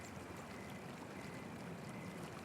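Flowing water of a babbling brook, a soft, steady rushing and trickling wash with no breaks, faint and even throughout with no voices.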